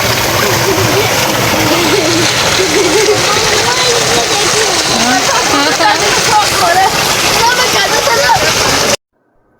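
Continuous splashing and sloshing of water in a village swimming pool during a pool party, loud and close, with voices and shouts mixed in under the splashes until it cuts off abruptly at the end.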